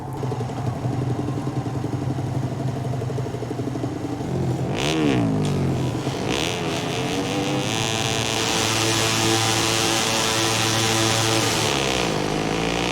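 Racing motorcycles in the video game MotoGP 17 rev and accelerate off the start line, a loud, close engine drone rising in pitch with a surge of clattering acceleration partway through.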